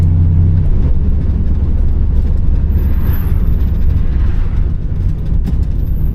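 A 1967 Chevelle with a 350 V8 pulls hard while driving, its deep engine roar loud and steady from inside the car, with a faint high whine over it.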